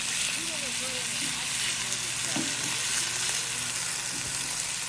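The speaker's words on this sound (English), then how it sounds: "peppers and onions are sauteed. We're gonna leave them in there and let them keep cooking" Peppers and onions sautéing in a pan at a campsite, a steady, bright sizzle running throughout beneath people talking nearby, with a few soft bumps and clinks.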